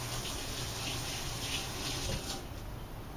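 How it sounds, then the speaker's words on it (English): Hands rinsed under a running kitchen tap, a steady close rush of water with slight shifts as the hands move through the stream, continuous and fairly loud with no talking. "Let me rinse my hands very quickly here."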